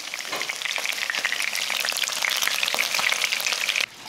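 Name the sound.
frying Vietnamese pork blood sausage until golden and crispy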